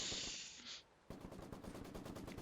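Maxim machine gun fire in the video game Company of Heroes 2: a rapid, evenly spaced stream of close, punchy shots rattling on after a brief hiss, loud and continuous to the end.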